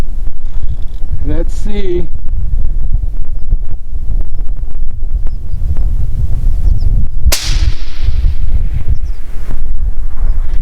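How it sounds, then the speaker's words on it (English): Strong wind blows across an outdoor shooting range and buffets the microphone in a loud, steady low roar. A brief voice speaks early on, and a single sharp crack cuts through partway in. "The wind's blowing from the left to the right."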